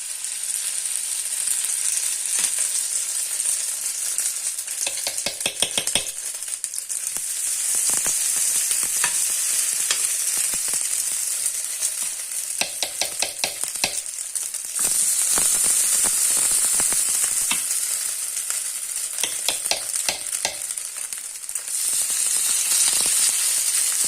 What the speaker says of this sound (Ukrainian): пательня вже парує. Менш вогонь зробила і насипаю.